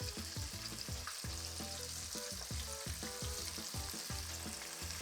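Chicken pieces frying in hot oil in a pan at around 300–325 degrees, several at a time, giving a steady, dense sizzle with crackling pops and no voices.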